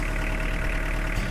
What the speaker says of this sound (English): That's the sound of a Kubota Standard L compact tractor.